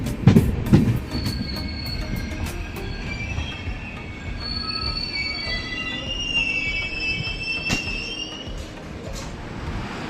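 Vasco–Yeshwantpur Express rolling into Davanagere railway station, with a steady rumble of carriages and wheels, a few heavy knocks early on and high metallic wheel squeal drawn out through the passage, heard from on board.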